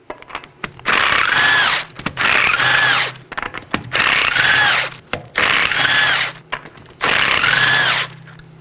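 An impact wrench on 19mm lug nuts of a Chevrolet Equinox rear wheel runs in five loud, close bursts of about a second each, separated by short pauses, with no talk.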